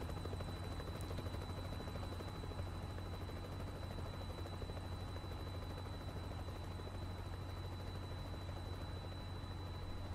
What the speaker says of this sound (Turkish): Oh ne güzel. Helikopterimizle beraber.